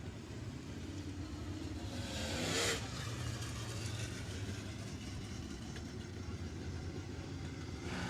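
Crate late model race cars roar steadily around Sabine Speedway during hot laps, a continuous engine drone that swells briefly as a car passes close.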